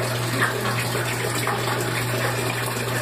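Steady running water streams over a chihuahua being rinsed in a bath, a continuous close gush like a faucet filling a tub, with no voices over it.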